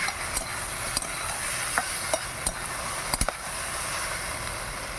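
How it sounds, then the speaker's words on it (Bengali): Constant sizzle of soybean chunks frying in a pan fills the clip, punctuated by sharp scraping clicks of a utensil stirring in the pan at irregular intervals. "এই সয়াবিনগুলো লাল লাল করে ভেজে নেব"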